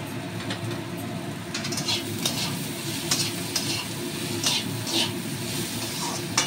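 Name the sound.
ridge gourd frying and being stirred in a pan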